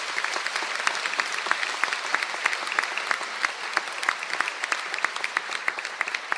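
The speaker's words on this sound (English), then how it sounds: "Could we please have a round of applause for the candidates from those groups" An audience at an indoor conferring ceremony claps steadily throughout, a dense wash of many hands at moderate distance with no voices above it.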